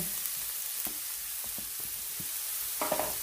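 Chopped onions for an aloo samosa filling sizzle in hot oil as they are stirred, a constant close frying hiss broken by scraping spatula strokes and a brief clatter near the end.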